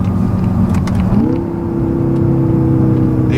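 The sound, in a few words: 2016 BMW M5 Dinan-tuned exhaust revving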